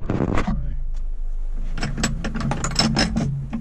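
An old Yale lock cylinder being shimmed, with small metallic clicks and scraping taps close up in quick uneven bursts, ending in a run of sharp ratchet-like clicks.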